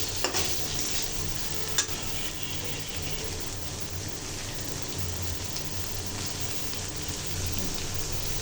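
Shrimp frying in a pan for fried rice, a steady close sizzle like light rain with occasional stirring clicks and scrapes, no voices.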